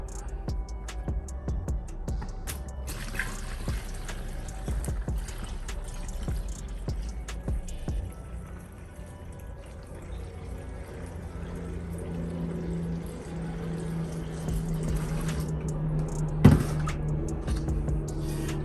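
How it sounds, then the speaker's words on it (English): Waterless car wash mixture is poured through a funnel into an empty bottle, giving a continuous trickling, gurgling fill with scattered drips and a short splash near the end. "it's important to pour this into the funnel and not onto the surface"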